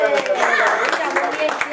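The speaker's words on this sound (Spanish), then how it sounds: "Un aplauso." Applause from a classroom of children, a short burst of clapping mixed with voices talking over it.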